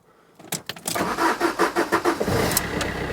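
A Fiat Doblo Cargo van engine starting: after a brief quiet moment a close starter crank churns in quick pulses, then the motor catches and settles into a rumbling idle.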